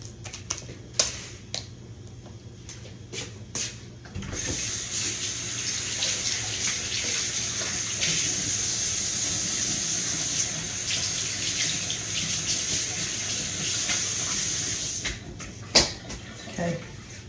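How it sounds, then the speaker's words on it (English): A kitchen tap runs steadily as hands are washed at the sink, with a close, even hiss lasting about ten seconds. Light clicks and knocks come before and after the water. "Let me wash my hands off"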